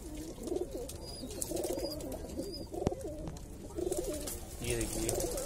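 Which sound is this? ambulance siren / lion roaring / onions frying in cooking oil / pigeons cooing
pigeons cooing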